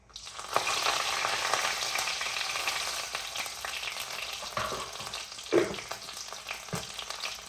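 Curry leaves hit hot oil in a pan while rasam is being made, bursting into a loud sizzle that settles into a softer, steady frying hiss with a few crackles and pops.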